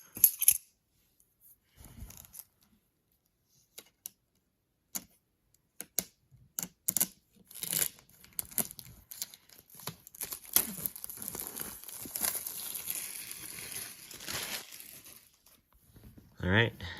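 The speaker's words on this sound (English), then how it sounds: "now let's unwrap this guy." Shrink-wrap is peeled and crinkled off a leather-bound book with gilded pages, giving close, intermittent crackles and tearing sounds that become a denser crinkling near the end.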